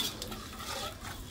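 Sautéed chili paste for sambal is stirred in a pan after a little water is added, giving soft scraping strokes over a faint, steady sizzle, with no talking.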